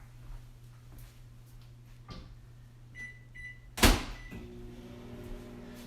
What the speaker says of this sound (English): We're gonna put this back in the microwave and we are going to heat it at 30-second increments